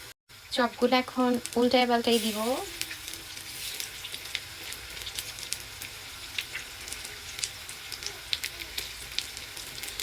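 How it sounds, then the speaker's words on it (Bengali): Potato chop coated in gram-flour batter is dropped into hot oil. After a brief voice at the start, a steady crackling sizzle continues close by, with scattered pops. "চপটাকে একদম বেসনের সাথে ভালো করে ডুবাইয়া এখন তেলে ছাড়া হবে"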